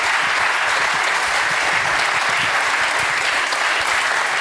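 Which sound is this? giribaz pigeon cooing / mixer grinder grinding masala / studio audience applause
studio audience applause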